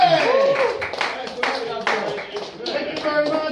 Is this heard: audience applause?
yes